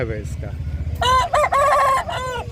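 A rooster crows loudly and close at a poultry market selling aseel-type birds, one long harmonic call rising and holding, with low market chatter and clucking underneath.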